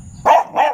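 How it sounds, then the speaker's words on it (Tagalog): A dog gives two sharp, loud barks in quick succession, close by, with no talking. "Huwag ka maingay naman aso"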